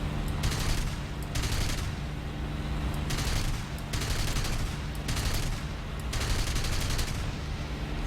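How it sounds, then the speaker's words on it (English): Bursts of rapid cannon fire from a Me 410 aircraft in War Thunder, several long volleys with brief gaps over a steady engine drone. "I like the sound of these cannons"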